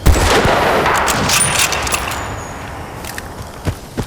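A sniper rifle fires in Battlefield Bad Company 2, a loud sharp shot at the start that fades into a long decaying echo, followed by a few faint clicks.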